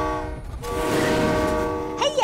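A cartoon train in a children's animated superhero show sounds with a sustained, loud horn-like blare over a busy mechanical rumble, ending in a rising whistle-like sweep.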